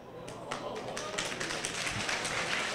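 Audience members at an indoor political meeting clap in a loose, irregular burst of sharp claps that builds and thickens toward the end, fairly close and moderately loud, with some murmuring underneath.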